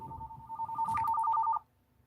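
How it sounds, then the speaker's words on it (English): A phone rings for an incoming call in a living room, a fast warbling electronic trill of repeated pulses that stops abruptly, leaving low background hum. "Phone call."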